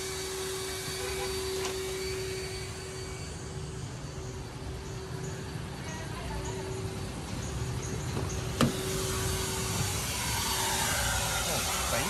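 Vacuum cleaner running at a car wash shop while a car is vacuumed, a loud, steady rushing roar with a constant whine throughout, close to the microphone.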